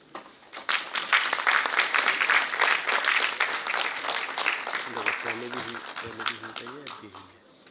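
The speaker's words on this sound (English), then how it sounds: "Huge round of applause." An audience at the Indian Statistical Service Foundation Day ceremony claps loudly during a memento presentation, the dense applause fading after about five seconds as a voice begins speaking.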